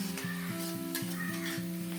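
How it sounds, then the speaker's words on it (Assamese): Cumin powder sizzles with potatoes and tomatoes in a frying pan, a steady close crackle of hot oil broken by rhythmic scraping and stirring strokes against the pan. "এতিয়া ঢাকন গুচাই ইয়াতে এচামুচ এনেকৈ জিৰা গুড়ি দি দিলোঁ।"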